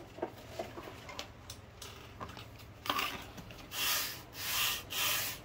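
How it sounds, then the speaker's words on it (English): A small cut piece for an N scale model structure is sanded square by hand, with faint rubbing strokes that swell into several slow, breathy sweeps near the end. "let me sand it square."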